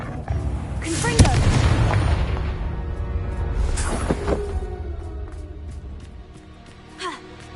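The Confringo fire spell explodes in the video game Hogwarts Legacy, heard as a heavy boom followed by rumbling blasts and crackles, with game characters' voices mixed in.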